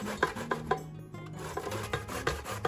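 Zucchini is rubbed against a kitchen grater in quick rasping strokes, a soft rhythmic scraping up close at moderate volume with no talk.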